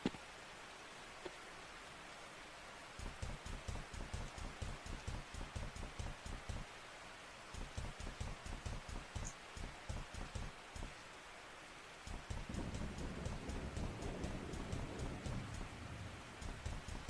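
Steady rain pours down continuously, broken by a regular, rhythmic pattern of heavier bursts, like water running or dripping in pulses; moderately quiet and close, with no voices.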